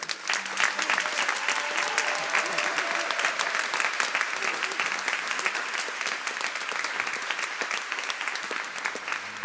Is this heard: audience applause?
yes